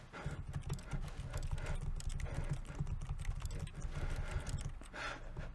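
Fast, steady clicking of a computer keyboard being typed on, close and fairly quiet, running continuously with no one speaking.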